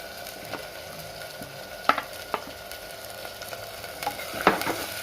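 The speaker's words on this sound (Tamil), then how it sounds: "கருவாடு நல்லா வதங்கட்டும்." Dried kolli fish sautés in a pan for a Tamil fish kuzhambu, giving a continuous gentle sizzle broken by a few sharp scrapes and taps of a spatula. No one talks.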